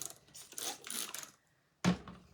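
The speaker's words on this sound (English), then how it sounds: "I'm going to spray it with water" Spray bottle spritzing water onto a transfer, several quick close pumps of hissing spray in a cluster, a pause, then one more sharp spritz.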